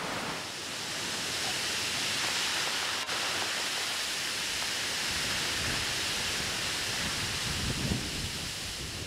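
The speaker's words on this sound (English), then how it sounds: "a 50 metre descent down a waterfall into the Atlantic Ocean" A waterfall pours into the Atlantic Ocean on the Azores coast, producing a constant, broad roaring rush of falling water with surf-like texture, loud and unbroken from start to finish, with no voices.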